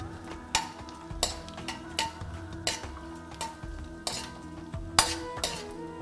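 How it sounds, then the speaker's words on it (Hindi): Peanuts roasting in a pan and stirred with a utensil, giving sharp rhythmic scraping clinks against the metal every half second or so over a low steady sizzle, close and clear with no voices. "एक दो मिनट ही लगते हैं इनको भूनने में और जल्दी से भून के तैयार हो जाते हैं"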